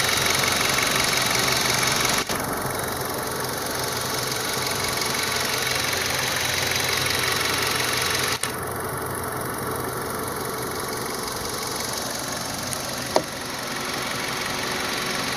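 A 2005 Nissan Frontier 2.5L four-cylinder engine idles steadily, warmed up and leaking coolant, a constant close mechanical hum with faint ticking and a couple of small clicks.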